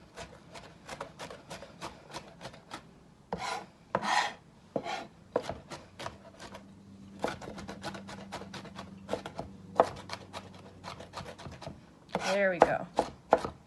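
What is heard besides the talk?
chopping vegetables with a knife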